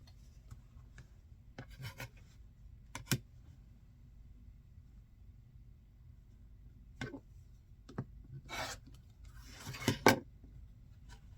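Quilt fabric is being cut in a quiet room: scattered soft snips, rubs and clicks, with a longer burst of scraping and snipping near the end.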